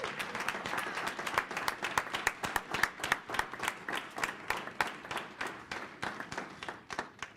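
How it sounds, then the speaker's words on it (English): A school district audience claps for new graduates, a loud, steady round of many hands with sharp, closely spaced claps lasting several seconds and no talking over it. "Can we give these young people another round of applause?"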